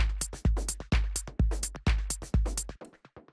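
A drum machine clap for a minimal house groove, now with a short delay, repeats in a steady pulse over a low kick, each hit trailing quick echoes that thin out and scatter into a fading tail at the end.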